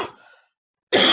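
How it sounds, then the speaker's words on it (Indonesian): A single short cough, fairly close, followed by a pause and then a louder burst of breathy noise. "Maaf ya, saya agak batuk-batuk."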